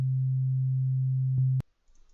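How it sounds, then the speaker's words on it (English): A single pure sine wave synth note on C3 in Ableton holds steady and loud for about a bar, then cuts off abruptly, leaving near silence. "Okay, so that's just a single sine wave there."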